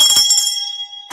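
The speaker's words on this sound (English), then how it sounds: "Let's ring the bell for you." A single bell is struck in celebration of a test taker: one bright, ringing tone that decays for about a second, then a brief burst of noise.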